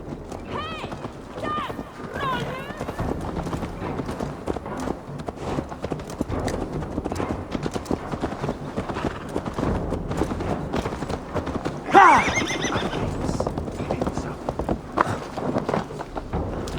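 Horse in Assassin's Creed Valhalla, steady rhythmic hoof clip-clops throughout with a few neighs early and a louder whinny partway, under ongoing speech.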